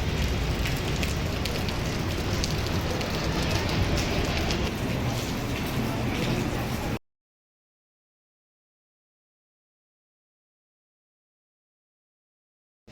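The season's first rain falls around the Mumbra temple area in Thane, a dense, even hiss of drops lasting about seven seconds before cutting abruptly to silence.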